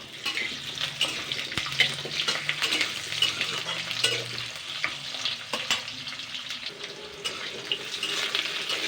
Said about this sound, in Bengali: আলুটাকে আগে 2 মিনিট মতো নাড়াচাড়া করে নেবো।